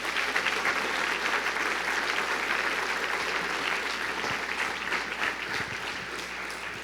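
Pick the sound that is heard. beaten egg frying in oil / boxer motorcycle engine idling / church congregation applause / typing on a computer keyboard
church congregation applause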